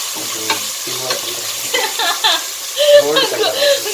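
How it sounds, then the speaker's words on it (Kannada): Ingredients for mushroom biryani fry in a pan, sizzling and stirred with scraping strokes, while a person talks over the cooking throughout. "ಫ್ರೈ ಮಾಡಬೇಕು ತರ್ಟಿ ಸೆಕೆಂಡ್ ತರ್ಟಿ ಸೆಕೆಂಡ್"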